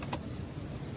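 Pet pigeons kept by boys coo softly and flap their wings, heard in one brief, faint burst close by with no talking.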